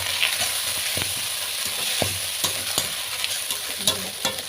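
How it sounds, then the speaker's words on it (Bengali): Coriander and dried chili powder sizzle in a pan for a koi fish and cauliflower curry, with a steady hiss broken by spatula scrapes and taps at an uneven rhythm, close up and with no voices. "এবার ভালো করে এটাকে কষিয়ে নেব।"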